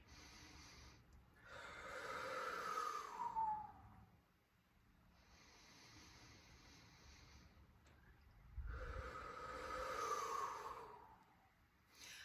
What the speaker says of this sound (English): This would be the visual on the TVA engagement breathing.